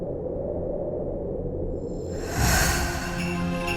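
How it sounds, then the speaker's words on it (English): A low, muffled rumble gives way to a sudden breathy whoosh, like a soft airy exhale swelling up as a transition effect. "It's the exhale sound."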